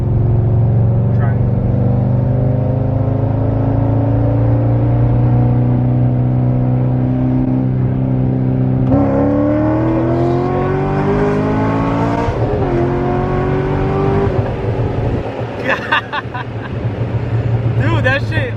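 A V8 car pulls hard under acceleration, its engine tone climbing steadily through a few rising sweeps with shifts between them. Someone talks over it near the end.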